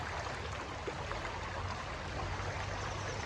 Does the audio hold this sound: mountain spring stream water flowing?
yes